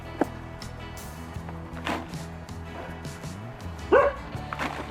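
A dog barks in a garden during an autumn and winter vegetable-plot tidy-up, giving a few short yips and barks amid rustling and background noise, with one louder bark near the end.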